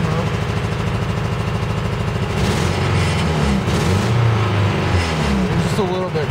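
A cold 1991 Toyota four-wheel-drive truck engine idles with a steady, slightly rough rumble close by, while someone talks over it.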